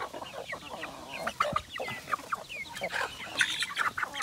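Chickens cluck and chirp in quick, scattered bursts, fairly close, with a busy, restless rhythm and no talking.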